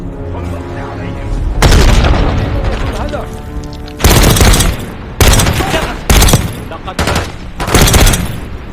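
Grenade blasts and bursts of rifle and machine-gun fire from Call of Duty: Black Ops 6, several loud booming volleys coming in quick succession, with a soldier's voice shouting over the start of the combat.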